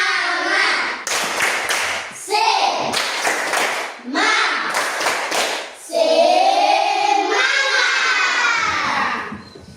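A classroom of schoolchildren performs a rhythmic group clapping chant, loud bursts of patterned claps alternating with voices calling out together in unison, close and energetic.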